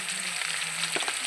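Ash gourd pieces fry in mustard oil in a wok, giving a brief, steady hiss of sizzling with a light scrape near the end.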